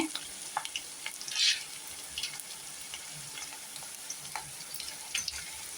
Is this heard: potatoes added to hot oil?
yes